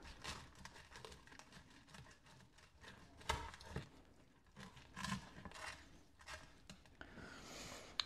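Plastic packaging around a supermarket pork belly is cut and crinkled open in a kitchen, with soft close-up rustling, snipping and crackling, quiet and irregular.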